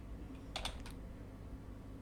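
A few quick, faint keystrokes on a computer keyboard, clustered in a short burst over a quiet background hum.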